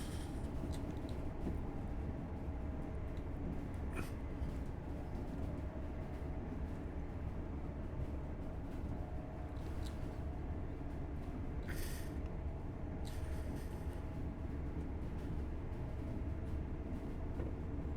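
LNER Class 801 train cruising at speed in Train Sim World 4 on the Peterborough to Doncaster line: a constant, dense rumble and roar of motion throughout, with a few brief high clicks and squeals along the way.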